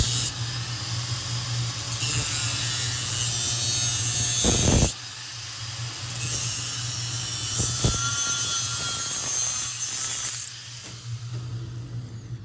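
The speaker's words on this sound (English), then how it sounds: "This machine here stretches and flares the pipe so you can get a really snug fit where you join them together." Pipe-stretching and flaring machine working exhaust pipe for a Land Rover Series III V8 performance exhaust in an engineering workshop, a steady loud mechanical hiss and whine with a sharp break near five seconds, then resuming and dropping off near the end.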